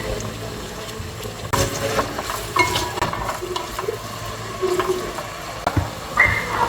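Beef added to a pan of cooked onion and a little bacon, sizzling steadily and stirred with scraping, clattering strokes, close and loud.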